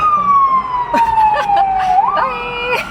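A wailing siren of the kind used on ambulances sweeps slowly downward and then back up, loud and continuous across the whole stretch, with faint sounds from other people and traffic under it.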